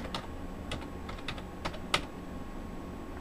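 Quiet typing on a computer keyboard, a short run of separate key taps at an uneven pace with one sharper stroke near the end, heard close and alone.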